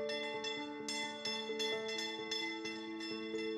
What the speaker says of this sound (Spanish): Son las campanadas de la vida, de la esperanza, que inundan los pasillos de este hospital